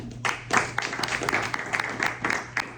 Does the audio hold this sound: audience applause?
yes